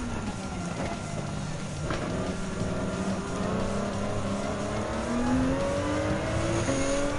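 Group 3 race cars in Gran Turismo 7, including a Toyota Gr.3 Supra, engines droning and revving with rising pitch through gear changes, a steady mid-level roar throughout.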